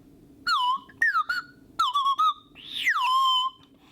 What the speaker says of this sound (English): you can have yourself a fun little water whistle like this